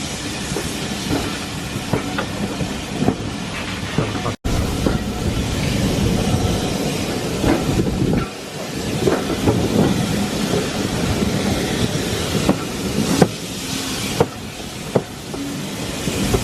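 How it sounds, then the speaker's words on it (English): A railway locomotive running light engine on a heritage railway rumbles steadily along the track, wheels clattering and clicking in an uneven rhythm as it rolls past nearby; no talking. "The engine will now run empty back to Arley"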